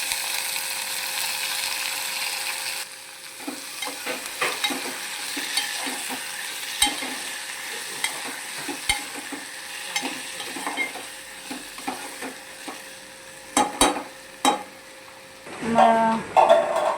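Chopped tomatoes are stirred into a red chili tempering in a hot pan, giving a low sizzle under repeated scraping spoon strokes, with louder clattering stirs near the end.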